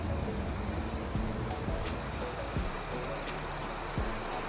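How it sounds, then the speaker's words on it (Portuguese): Crickets chirp steadily through a nighttime scene in the truck driving game Global Truck Online, a continuous high trilling bed with scattered faint clicks and low croak-like pulses, no voices. "Ó os grilos de fundo."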